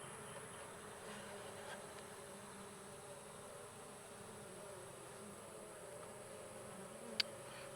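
Honey bees buzz inside a mini mating nuc hive during a queen check, a faint steady hum close by with a single sharp tap near the end.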